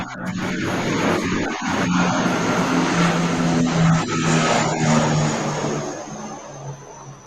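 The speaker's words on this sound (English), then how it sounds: "what was that, aeroplane?" Airplane engine drone passing overhead, a loud steady roar with a low humming tone that swells and then fades slightly, heard alone without talk.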